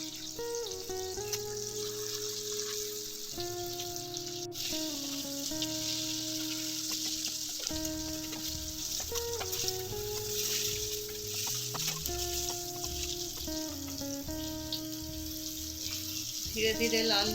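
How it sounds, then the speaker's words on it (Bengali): Pieces of jackfruit and prawn dhoka fry slowly in hot oil with a steady, soft sizzle that runs throughout beneath background music. "একটু ধীরে ধীরে ভাজতে হবে যাতে ভিতরটা ভালো ভাজা হয়।"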